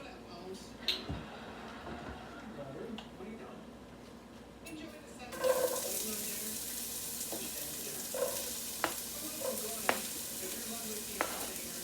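Food sautéing in an oiled pan for a quick summer dinner, a steady sizzle that grows louder partway through as more goes in, with occasional stirring clinks and a person talking over it.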